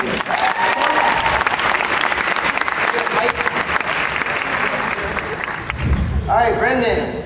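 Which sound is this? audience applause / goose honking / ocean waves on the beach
audience applause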